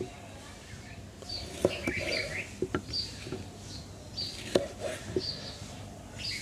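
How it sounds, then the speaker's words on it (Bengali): Okra being cut with a knife for a Bengali bhindi dish, giving a handful of sharp, irregular knife taps against a board, fairly close, over a faint background with occasional birdlike chirps. "এই ভেন্ডিগুলো এখন আমি কেটে নেব।"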